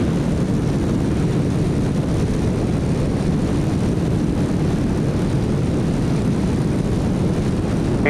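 Steady, loud propeller drone of a light single-engine aircraft on approach and landing at NC06 Banner Elk during Helene relief, a continuous cabin-level engine roar with no talk.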